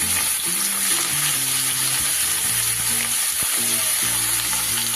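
Hot oil sizzles steadily in a pan after potatoes have been fried in it, a loud, continuous close-up crackle with occasional stirring, mixed with an intermittent melodic background tone.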